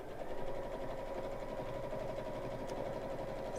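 A sewing machine runs steadily through thick fabric with a fast, even mechanical whir and needle clatter, close and continuous for a few seconds without talk.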